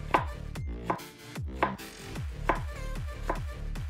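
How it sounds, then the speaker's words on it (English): Knife slicing an apple into matchsticks on a board, five or six crisp chopping strikes in a steady rhythm, close and clear with no talking. "And then slice the other way around."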